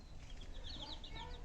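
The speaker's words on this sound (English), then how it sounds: "these two little guys right here, these are Rhode Island Reds" Young Rhode Island Red chicks cheeping, a quick run of high thin peeps repeating over a low background hum, faint and close, with no talk.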